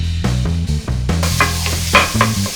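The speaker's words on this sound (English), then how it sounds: "taking high quality ground beef, putting it in a pan, and browning it" Ground beef browns in a hot pan, sizzling and frying loudly up close while a utensil stirs and scrapes it through the meat.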